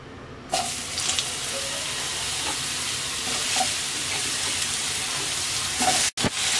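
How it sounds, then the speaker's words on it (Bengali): Slices of eggplant frying in hot oil for a Bengali home-style curry give a steady, close, dense sizzle with faint crackles that runs throughout without speech, broken by a brief sharp dropout near the end. "এবার আমরা বেগুন ভেজে নেব।"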